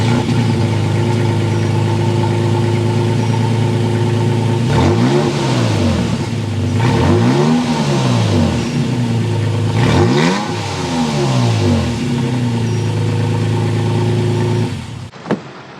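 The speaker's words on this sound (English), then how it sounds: "start it up so you can hear that exhaust note." A 2023 Toyota Tacoma TRD Off-Road V6 idles loudly and close, then is revved three times in quick succession before settling back to idle and cutting off.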